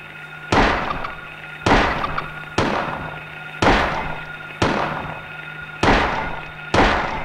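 Shotgun blasts in the Silent Hill video game, seven loud booming shots spaced roughly a second apart, each with a sharp crack and a decaying tail over a steady low game hum.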